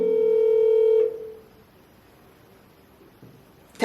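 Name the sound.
telephone call dialing tone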